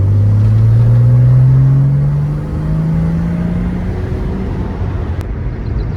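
A Porsche with 240,000 km slows under braking while bedding in new brakes, its engine note descending steadily over a continuous road rumble, close and loud, no voices.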